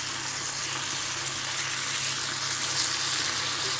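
Pork fillet sizzles in a pan of paprika sauce, a steady, dense hiss and crackle held close and constant throughout.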